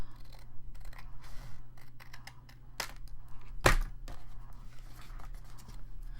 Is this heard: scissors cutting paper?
yes